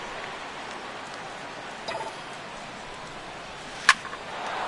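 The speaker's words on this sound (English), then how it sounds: "the rain continues to fall here" Steady rain falls on a baseball stadium as an even wash of hiss, with a faint brief clatter midway and a sharp crack near the end.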